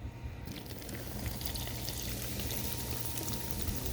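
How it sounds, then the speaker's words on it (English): Pumpkin beer pours steadily over cut pumpkin fries in a bowl, a continuous close liquid splash and trickle with no talking. "today we're going to use pumpkin beer to soak our fries in."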